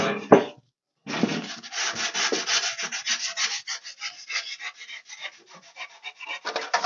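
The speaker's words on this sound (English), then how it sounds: "You just want to sand down your corners," Sheet metal corners for a model teardrop camper are rubbed with 600 grit sandpaper, giving a close, scratchy back-and-forth rasping after a short initial scrape. The strokes come in quick, fairly even repetitions with no talking.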